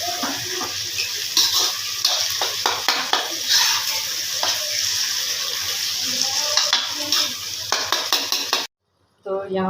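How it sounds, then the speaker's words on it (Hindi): Tomatoes and chicken fry in a pot for bhindi chicken. A loud continuous sizzle runs under repeated stirring scrapes and clinks of a utensil against the pan, then cuts off abruptly near the end. "अभी इसको अच्छी तरह से मिक्स करके इसकी अच्छी तरीके से हम भुनाई करेंगे, ताकि टमाटर और चिकन अच्छे तरीके से फ्राई हो।"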